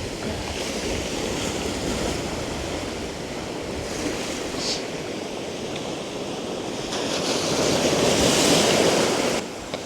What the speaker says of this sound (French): Une mer bien vivante